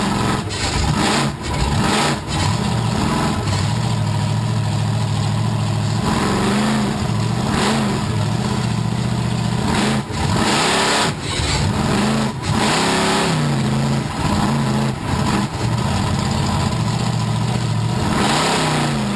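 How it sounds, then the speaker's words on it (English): Monster truck engine at a Seekonk, Massachusetts monster truck show turns over and revs hard, a loud, continuous roar with repeated surging throttle blips and a steady high whine over nearly twenty seconds, no talk. "You can hear that truck firing up."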